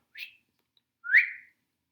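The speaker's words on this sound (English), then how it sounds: "he whistled a note" Two short whistled notes with silence between them, the second louder and sliding downward, clear and close.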